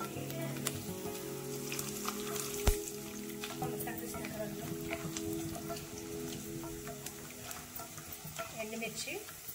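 Chana dal fries in oil in a pan as tamarind rice is cooked, with a steady soft sizzle, crackling pops and occasional stirring scrapes of a spoon, heard close up and alone.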